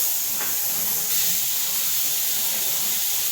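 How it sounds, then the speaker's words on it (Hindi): Pressure cooker whistling and steaming on the stove while dal cooks, a steady loud high hiss running throughout with no talk. "दाल में सीटी आ चुकी है"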